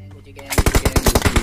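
Automatic gunfire in PUBG Mobile, a rapid, evenly spaced burst of about ten loud, close shots following a brief quiet moment.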